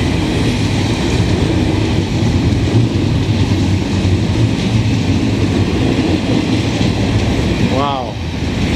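A CN freight train rumbles steadily past in the rain, a loud continuous roar of wheels and cars filling the whole stretch, with a brief voice near the end.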